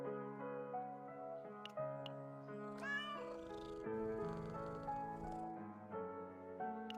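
Cartoonish cats meow repeatedly as they are stroked in the Chaos Zero Nightmare video game, several drawn-out, tonal mews layered over soft game music, clear and close.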